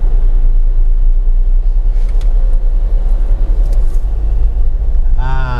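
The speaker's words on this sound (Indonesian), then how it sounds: "Sekarang kita nak test drive." A car with a freshly repaired gearbox rumbles steadily from inside the cabin on a test drive, with continuous low road and engine noise and a voice speaking over it near the end.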